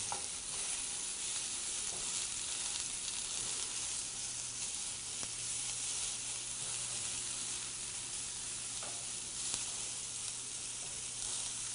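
Onions fry in a pan for vegan migas, giving a steady, close sizzle and crackle with faint stirring scrapes, continuous and alone without talk.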